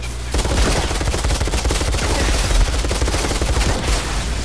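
A gun fires in rapid continuous bursts in the game Outriders, loud and close, the shots packed into a dense rattling stream that runs almost the full length.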